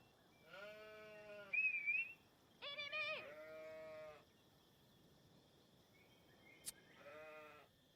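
Sheep in the strategy game Age of Empires bleat in three separate calls, clear and moderately loud, with a faint game sound effect and a brief click between them over a quiet background.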